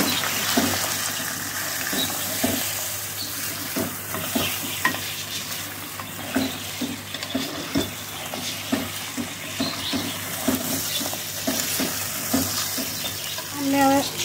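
Mutton kadai frying in a pan during home cooking, with steady sizzling and a stirring clatter throughout, plus a brief louder scrape near the end.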